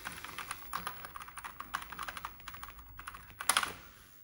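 Keys clatter on a Panasonic FS-A1WSX MSX computer keyboard with a repaired membrane, in irregular quick bursts of close clicks, with a sharper cluster of presses near the end.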